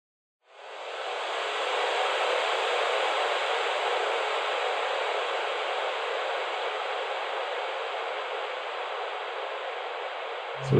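A broad, smeared wash of noise swells in and holds steady for several seconds, like a sound drowned in heavy reverb, then cuts off.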